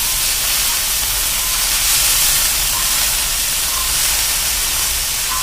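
Beef searing on a FireDisc cooker, a constant loud sizzling hiss lasting several seconds, steady and close with no voices.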